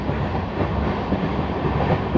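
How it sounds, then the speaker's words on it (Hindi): A passenger train running through a small railway halt in India, a loud close rumble with rhythmic clattering of wheels over rail joints, steady throughout with no voices. "पहली बार कोई ट्रेन जो है वो प्रसादपुर हॉल्ट को स्किप कर रही है"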